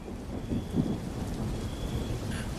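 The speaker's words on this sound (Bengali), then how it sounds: "আকাশে কালো মেঘের গর্জনে বিকট শব্দে বিদ্যুৎ চমকালো, আর ঝুমঝুম করে নেমে এলো মুষলধারে বৃষ্টি" Heavy rain pours steadily through a cartoon thunderstorm, a dense hiss with low rumbling underneath and a sharp crack of thunder at the very end.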